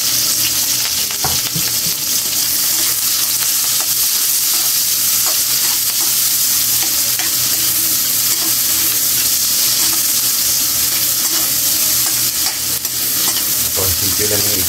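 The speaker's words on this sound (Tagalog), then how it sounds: "Lagay natin yung sibuyas mga kaili. Sama natin yung sili." Onions and chili sizzle loudly in a frying pan, a dense, continuous frying hiss close up with occasional stirring clatter, all with no talk over it.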